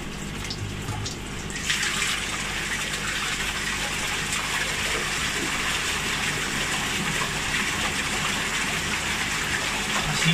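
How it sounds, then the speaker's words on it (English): Water gushes steadily through the blocked pipe of a Nexus 320 pond filter being flushed out, a loud continuous rushing that surges stronger after a couple of seconds and holds. "Right, we're going to blow the pipe now,"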